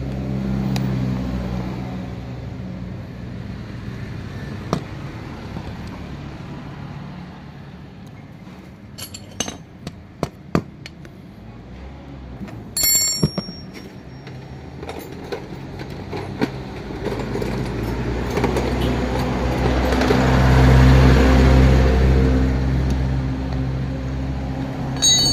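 An Isuzu starter motor spins freely without engaging, giving a steady whirring drone with scattered metallic clinks. The whir swells louder toward the end.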